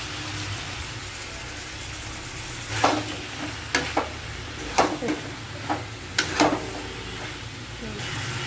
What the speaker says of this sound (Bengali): এগুলিকে আবার কিছুক্ষণ কষিয়ে নেব